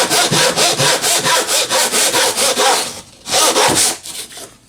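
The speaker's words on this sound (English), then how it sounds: "use the old piece and butt your saw there" A hand saw cuts wood for a picture frame in fast, steady back-and-forth strokes, loud and close, with a brief pause before a few final strokes.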